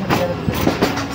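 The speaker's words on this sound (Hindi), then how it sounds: "6:35 पर हमारी ट्रेन डिपार्ट कर रही है जहानिया रेलवे स्टेशन से" Allama Iqbal Express passenger train pulling out of Jahania railway station, heard as a short stretch of close rumbling with a few clanks of the carriages.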